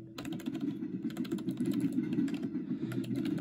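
Computer keyboard keys are pressed in quick, busy bursts, a close and fairly soft patter of clicks with a low hum underneath.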